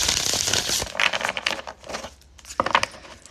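A deck of cards is shuffled by hand, giving a few quick papery riffling and flicking bursts, close and fairly quiet, then a short pause before one last flurry.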